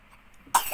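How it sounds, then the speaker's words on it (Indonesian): A single short, sharp cough from a small child, close by, after a moment of near quiet. "Batuk kayak orang tua."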